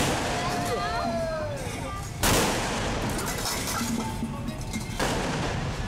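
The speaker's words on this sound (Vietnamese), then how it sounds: "Đây không phải đạn thật, chỉ nổ tại nòng pháo, giảm khói, thao tác thuận lợi và tiếng nổ đành giòn," Two sharp, loud blasts of artillery firing blank rounds ring out a few seconds apart during National Day ceremony preparations, each leaving a rumbling echo, and a voice talks underneath.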